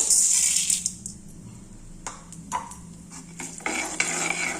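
Seeds, chana dal and oil are tempered in a pan for upma, starting with a bright hiss, then light metallic clinks and stirring taps, before a louder sizzle returns at the end.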